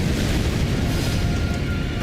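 A Godskin fireball blast in the video game Elden Ring, a loud sustained booming roar that fills the whole moment with dense rumbling noise and no pauses.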